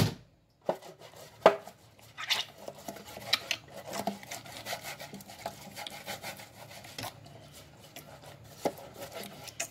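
Oil being brushed or rubbed around the inside of a cake tin for a holiday fruitcake, giving soft scraping and rubbing strokes with a few sharper knocks, close and moderately quiet with no talking.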